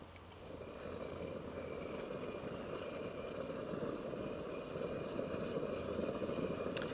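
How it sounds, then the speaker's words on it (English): Trangia multi-fuel stove burning Coleman white gas on a cold day, a steady, fairly loud roaring hiss that holds evenly throughout without pauses. "It's not the quietest stove."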